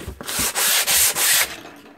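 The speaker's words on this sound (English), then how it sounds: "just sand your canvas to get rid of the extra blobs" Sandpaper rubbing across a painted canvas to knock off dried paint blobs, heard as several loud rasping back-and-forth strokes in quick succession, close by with no talking.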